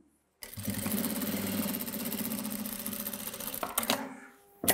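A sewing machine stitches patchwork pieces in a fast, steady mechanical whir that starts abruptly after a brief silence, runs for about three seconds, then stops with a clunk.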